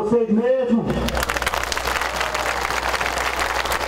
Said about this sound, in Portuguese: Uma salva de palmas para vocês mesmo.